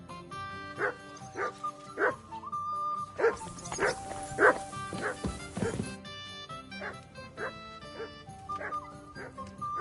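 Dog in Kingdom Come Deliverance 2 giving repeated short barks and yips, fairly close, over game music and other ambient sound.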